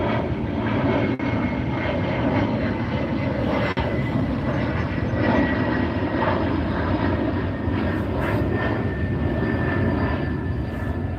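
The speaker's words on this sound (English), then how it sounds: "I'm gonna let the plane pass." An airplane drones overhead in a steady, loud engine rumble that holds for the whole stretch with no talking over it.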